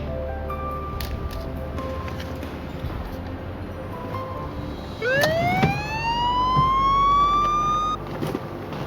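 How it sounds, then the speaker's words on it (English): A police siren wails once, rising sharply in pitch and then holding high for a few seconds over a low background hum before cutting off. "The car was outfitted with a police siren and police lights."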